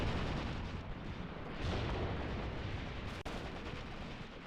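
Heavy, rumbling infantry-gun fire in Graviteam Tactics: Mius-Front rolls on as a dense, continuous battlefield roar, with one sharp crack cutting through near the end.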